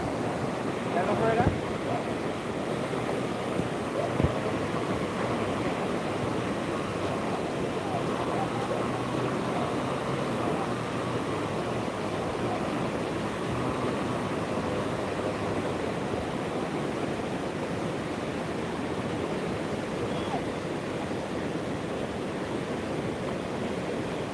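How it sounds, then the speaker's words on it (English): The Hope River in Kingston, Jamaica, after Hurricane Melissa flows with a steady, broad rushing roar that fills the scene without pause, someone speaking faintly now and then beneath it. "This is the Hope River."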